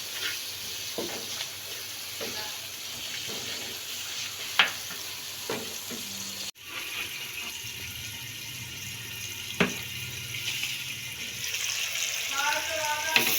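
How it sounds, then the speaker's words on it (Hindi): Masala for aloo matar gajar sizzles in a pan as a spoon scrapes and stirs it in periodic strokes, with steady frying hiss underneath. "बहुत अच्छे से मसाला भुन गया है"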